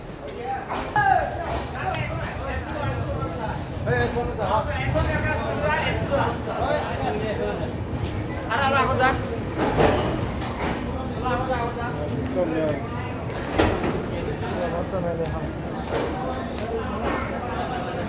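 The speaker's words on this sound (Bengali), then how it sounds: "এখন 5:50 ট্রেন লাগানো হচ্ছে প্ল্যাটফর্মে।" Busy railway platform at Kamakhya station as a train is brought in: constant crowd babble and chatter with rumbling rail noise beneath, a steady mix throughout with occasional louder clanks.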